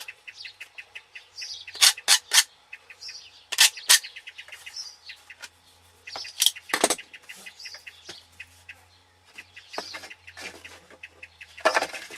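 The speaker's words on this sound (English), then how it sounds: "If you can hear that bird, it's Mrs. Blackbird." Bright blackbird song in short, repeated phrases with sharp chirps, fairly close and clear against a quiet background.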